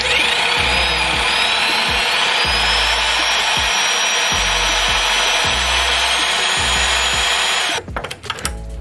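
A drill bit bores a pilot hole during suspension work on a 1966 Mustang, giving a loud, steady, high whine with a grinding undertone that runs for about eight seconds before stopping abruptly with a few rattling clunks.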